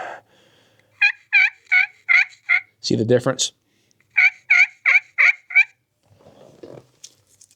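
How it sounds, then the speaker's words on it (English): Turkey yelps on a slate friction call, tried with different strikers: two runs of five or six evenly spaced raspy yelps, close and clear, separated by a short burst of lower scratching, with a brief spoken remark near the end. "So I'll try a yelp on this slate call."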